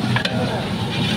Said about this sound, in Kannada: ಟೊಮೊಟೊ ಚೆನ್ನಾಗಿ ಫ್ರೈ ಮಾಡೋದ್ರಿಂದ ತಗೊಳ್ಳಿ